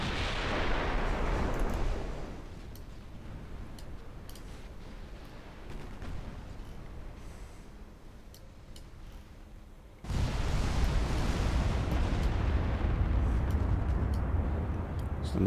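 Torpedo hit in a naval battle game set in a Portugal campaign: a heavy, loud explosion with a long rumbling decay, followed later by another sudden roaring blast of sustained noise.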